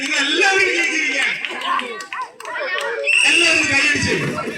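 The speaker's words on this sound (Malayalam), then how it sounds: "എല്ലാവരും കൈയടിച്ച്." A group of children clapping and cheering together, the rapid applause mixed with excited shouts and young voices, loud and close, with a short dip before the clapping picks up again.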